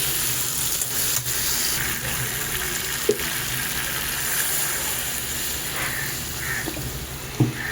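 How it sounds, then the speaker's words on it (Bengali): Water is poured into a pot of potol chingri curry (pointed gourd and prawns) after the vegetables have been fried in oil. It gives a steady, moderate sizzle and bubbling hiss that runs throughout, with a few brief clinks on top. "এবার আমি এতে জল দিয়ে দিচ্ছি।"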